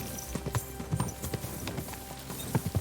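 Horse hooves clip-clop in Kingdom Come: Deliverance II, a medieval role-playing game, as a steady, close, uneven trot of clustered thuds over a low ambient bed, with no voices.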